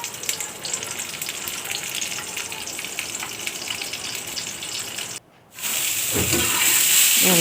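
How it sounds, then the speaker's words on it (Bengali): Pointed gourd seasoned with turmeric and salt deep-frying in mustard oil makes a steady bubbling hiss. It cuts out briefly, then returns louder and fuller. "সামান্য হলুদের গুঁড়া, লবণ দিয়ে ডুবো তেলে ভাজবো"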